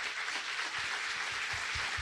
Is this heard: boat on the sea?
no